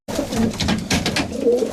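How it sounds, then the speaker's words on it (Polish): Racing pigeons coo softly and repeatedly at close range inside a breeding loft, overlapping murmurs with faint rustling in an enclosed space. "Znajdujemy się teraz we wnętrzu gołębnika rozpłodowego Kiegimirka."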